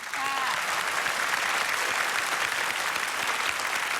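Sustained applause from a large audience at a school music contest in Isan, Thailand, a steady wash of clapping that stays loud and even from start to finish.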